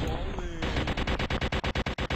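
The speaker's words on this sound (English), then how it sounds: "They just never stop firing if you're in their line of sight." Video game tanks fire nonstop, a near, loud burst of rapid gunfire settling into a steady, evenly spaced rattle of shots after a brief muffled start.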